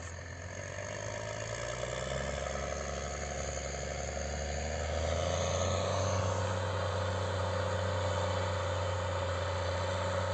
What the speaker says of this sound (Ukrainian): Трактор Нью-Холланд.